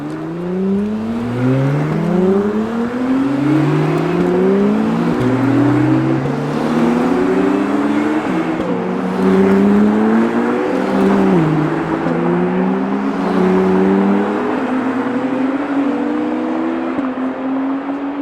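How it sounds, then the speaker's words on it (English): An Acura NSX driven at the Long Beach Grand Prix climbs loudly through the revs on throttle, its engine note sweeping upward again and again with each gear change, close and continuous with no talk. "We're gonna start at this NSX and go on throttle."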